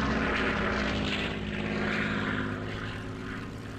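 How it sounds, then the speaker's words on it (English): Ki-61 fighter plane in the IL-2 1946 flight game roaring low over an airfield, a loud propeller engine drone that fades slightly as it passes. "Right as we see a KI-61 pass right over our airfield."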